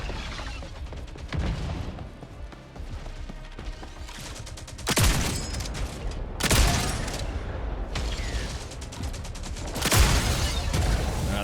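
Gunfire in the video game Jump Ship, with bursts of rapid shots and several loud impacts or blasts at regular intervals over a busy mechanical background, no talk.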